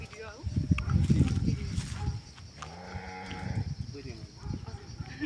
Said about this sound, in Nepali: याक रहेछ